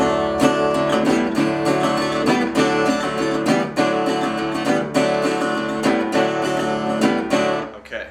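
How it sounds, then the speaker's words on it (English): Acoustic guitar plays the main lick of a song, a driving, percussive blues pattern with sharp plucked attacks repeating at a steady pace, loud and close, with no voices. "he plays the main lick throughout the song, which sounds like this."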